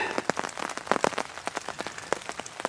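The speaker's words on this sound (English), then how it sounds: "Every once in a while, I'll hear more rain running off that end right over there" Rain pattering hard on a hammock tarp during a night storm in the woods, a dense steady patter with heavier drops striking in quick irregular bursts, close and fairly loud with no voices.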